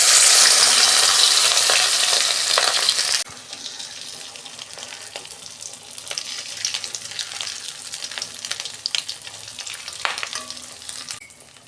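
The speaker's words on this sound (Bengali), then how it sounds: "তেল গরম হয়ে গেছে, আমি মাছের ডিমটা দুবারে ভাজবো।" Fish roe frying in hot oil in a wok, with a loud, dense sizzle at first that drops to a steadier, quieter crackle, broken by occasional sharp pops and scrapes.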